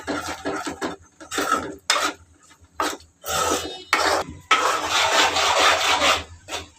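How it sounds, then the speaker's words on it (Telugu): Yogurt masala being stirred in a pot for bagara rice, a utensil scraping and rubbing against the pot in repeated short bursts, then a longer continuous scrape, close and clear with no talking. "వేసుకుని ఒక రెండు నిమిషాలు అలా తిప్పుతూ మగ్గించుకుంటే మనకి చక్కగా మగ్గుతుంది"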